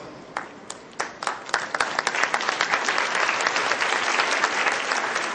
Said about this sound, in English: Very well presented, and they really deserve a big applause.